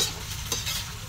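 Liver cooks in a pan with a continuous close sizzle and a soft scrape of stirring partway through, brief and without voices.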